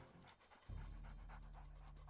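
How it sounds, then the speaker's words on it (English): Dogs panting in the WolfQuest Anniversary Edition wolf game: quick, rhythmic breathy panting, close and steady, starting after a brief quieter moment, over a low constant hum. "Dogs."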